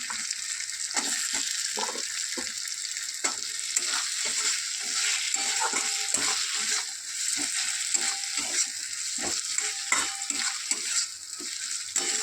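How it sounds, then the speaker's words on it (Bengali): Potatoes fry in a thick spice paste with a steady close hiss, broken by irregular clicks and scrapes from stirring, in a mixed vegetable dish cooked with fish heads. "মশলাটা কষা হতে হতে এতে আমি একে একে আলু দিয়ে দিলাম।"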